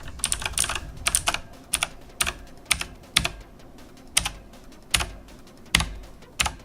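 Fast irregular clicking of keystrokes on an E-Element budget mechanical RGB keyboard, sharp close taps in bursts and pauses with no voice.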